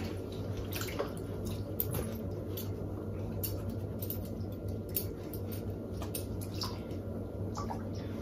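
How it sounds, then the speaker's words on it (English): Water splashes and drips continuously as a sponge is rinsed in warm water and squeezed, close by, with a faint steady hum underneath. "get a clean sponge and just give it a little clean off, just with warm water"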